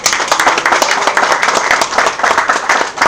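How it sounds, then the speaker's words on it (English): An audience at a birthday celebration for former President Olusegun Obasanjo bursts into lively, close applause, many hands clapping loudly in rapid, slightly surging waves. "A round of applause to our daddy"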